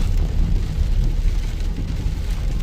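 Heavy rain drums on a car during a Delhi to Vaishno Devi road trip through Haryana, near Kurukshetra and Ambala Cantt, as a dense, steady, loud rumble with constant road noise and no voices.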